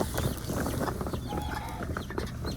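Chickens and other farm fowl, with geese nearby, cluck and call busily in a pen at feeding time, a dense continuous flock chatter close by with no talking.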